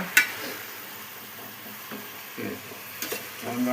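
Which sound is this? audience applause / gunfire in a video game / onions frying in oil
onions frying in oil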